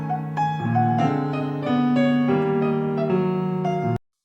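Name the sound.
piano chords with staccato notes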